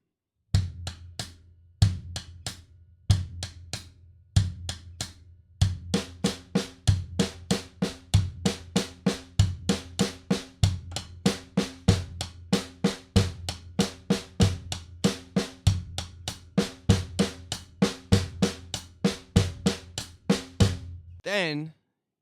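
A drum independence exercise with sixteenth-note patterns split between both hands: crisp, close strokes repeat steadily and evenly, with accented hits recurring in a regular cycle and no talking over them.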